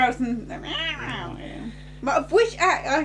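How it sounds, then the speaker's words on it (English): A cat makes low, rough vocal sounds at close range, a growl followed by a couple of louder yowling bursts, with some voices mixed in. "goes to play with the cat. It sort of growls and"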